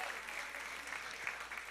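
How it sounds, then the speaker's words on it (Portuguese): Applause from a church congregation during a celebration service, a dense, steady wash of clapping that is faint and distant, continuing evenly throughout, with a voice faintly under it. "Bata palmas e diga aleluia"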